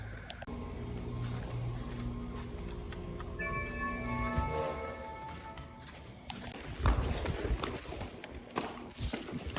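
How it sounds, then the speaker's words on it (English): Footsteps climb a long flight of stairs during a food delivery, a steady run of clopping treads over street noise with a brief tonal whine midway and heavier, closer steps toward the end. "Oh man, we're going up a lot of stairs."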